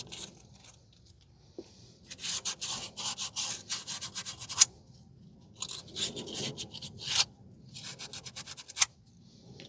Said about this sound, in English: I'm using 80 grit coarse aluminum oxide sandpaper.